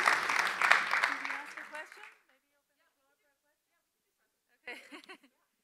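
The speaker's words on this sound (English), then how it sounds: "let's give a big round of applause for Keli" Audience applause at a tech conference panel on sustainable blockchain, a dense burst of clapping lasting about two seconds that fades out, then a short, fainter patter near the end.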